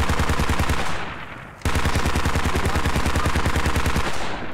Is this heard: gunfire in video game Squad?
yes